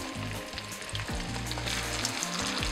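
Small smelt fry in a pan of oil as they are spread around and flipped, giving a continuous moderate sizzle with light crackles and an occasional soft clink, with no voices.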